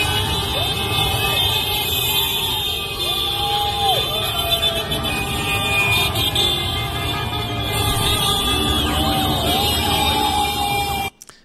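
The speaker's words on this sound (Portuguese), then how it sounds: "são 2 minutos de motos passando sem parar" A steady stream of motorcycles roars past nonstop in a loud street procession, with wailing sirens rising and falling over the engine noise and crowd voices mixed underneath.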